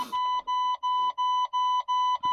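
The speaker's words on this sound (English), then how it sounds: "It's my low air pressure since the truck's been sitting so long." A truck's low air pressure warning beeps in a regular, evenly spaced series of about seven clear electronic tones, fairly loud and alone.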